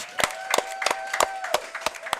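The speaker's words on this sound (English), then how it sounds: "Y'all give a huge, raucous round of applause for senior defensive lineman." A small audience at a high school football coaches show claps for a senior defensive lineman, with sharp separate claps or snaps in an uneven rhythm, fairly close, over a steady faint tone.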